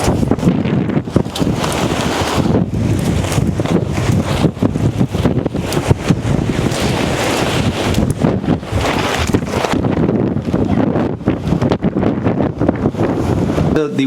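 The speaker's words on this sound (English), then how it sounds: "The wind went from 8 miles an hour up to a steady 35 miles an hour with gusts up to 70 miles an hour" Strong gusty wind buffets the microphone outdoors on a homestead, a loud continuous roar with surges and brief dips throughout, no voices.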